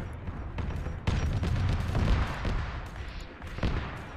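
Close machine gun fire and bolt pistol shots crackle in a Warhammer 40k mod battle in Arma 3, a steady dense rattle of overlapping reports over rumbling background.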